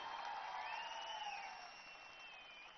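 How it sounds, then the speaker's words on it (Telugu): Crowd at a Chief Minister's public meeting for a pump house inauguration at Purushothapatnam, clapping and cheering in a broad, steady wash that fades slightly toward the end. "గట్టిగా చప్పట్లు కొట్టి అవును అని చెప్పండి"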